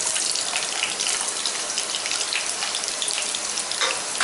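Chopped onion frying in about five spoons of hot oil in a pan for a restaurant-style paneer masala gravy, a steady loud close sizzle with a dense hiss that holds without pause, no voices.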